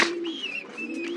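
A racing pigeon of the AK440 line coos softly nearby, a single short throaty phrase with a low steady tone, heard alone without talk.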